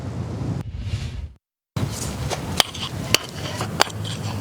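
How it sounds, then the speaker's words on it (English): A crew strikes the ground with a hammer for a seismic survey near wetlands; three sharp, distinct impacts land at roughly even intervals over a steady outdoor wind-like background, with a brief dropout of silence before them. "It may look like crews are just hitting the ground with a hammer, but they're actually using sound waves to map what's below the surface."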